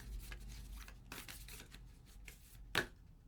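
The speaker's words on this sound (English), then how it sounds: "we're going to keep shuffling and just see if we can get one to fall out here" A deck of cards is shuffled quietly at close range, with soft riffling and sliding bursts separated by pauses and one sharper snap near the end.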